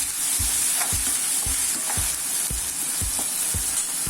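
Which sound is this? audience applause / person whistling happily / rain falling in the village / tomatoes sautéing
tomatoes sautéing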